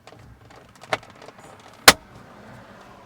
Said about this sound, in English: I'm gonna now pop this back in.